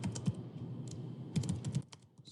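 Quiet, quick bursts of computer keyboard keystrokes tap out ABAP code, with clustered clicks separated by a short pause.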